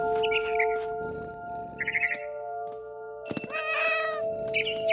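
A cat meows several times in What Remains of Edith Finch, in bursts of rising and falling calls over a steady game ambience with a low musical drone and occasional soft thumps.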